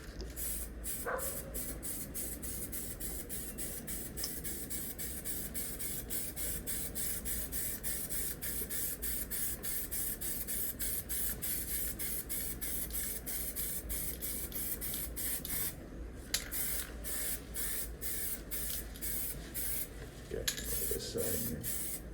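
Gray base coat sprayed from an aerosol can onto a 3D printed RC model ship, a close, steady hiss in long bursts broken by the can's rattling pauses, no talking.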